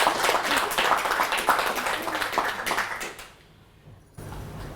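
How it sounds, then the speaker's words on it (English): An audience applauds after an academic talk on coffee and its substitutes, a dense, steady clapping that fades out toward the end before a quieter room tone returns. "I think you need an extra applause"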